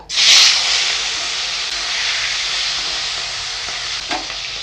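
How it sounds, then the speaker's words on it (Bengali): Sea fish frying in hot oil in a kadai, a loud steady sizzle that flares at the start as the fish goes in, then settles into a continuous hiss with a brief stir near the end. "তেল গরম হয়ে গেছে মাছগুলো ভেজে নেব"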